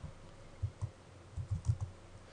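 Keystrokes on a computer keyboard while entering terminal commands during a CentOS driver install, a handful of soft clicks in two short clusters, close and quiet with no talk.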